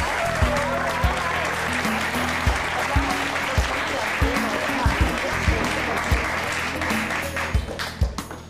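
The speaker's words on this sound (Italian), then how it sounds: "Un applauso!" An audience at an Italian event applauds in a sustained, lively round of clapping, with music and a thumping beat running underneath.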